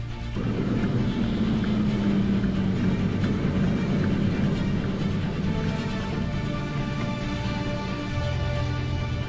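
A Bugatti Chiron speeds up steadily during a high-speed stability test on a track, its continuous engine and road roar holding loud and dense throughout, with a low rising tone in the opening seconds and no speech.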